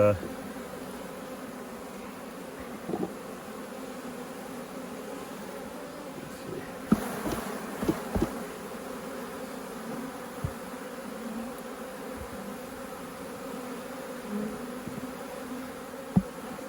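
Honeybee colony in a nuc hive, opened for inspection, gives a steady low buzzing drone throughout, with a few soft handling knocks and brief louder bursts partway through.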